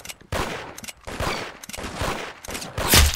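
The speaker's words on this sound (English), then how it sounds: "No, it's the Spencer carbine again." Rapid bursts of Spencer carbine gunfire in the Roblox shooter Arsenal crack out loud and close, several shots in quick succession with brief gaps.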